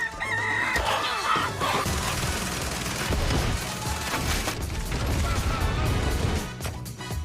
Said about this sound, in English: Who brought the rooster?